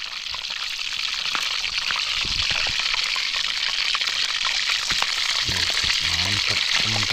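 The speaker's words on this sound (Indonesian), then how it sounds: "Wah, digoreng ya." Crab frying in a pan of hot oil at a camping site makes a loud, continuous crackling sizzle close by, with bubbling and stirring sounds and brief talk in the background.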